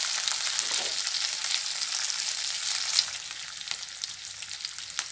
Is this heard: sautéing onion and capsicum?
yes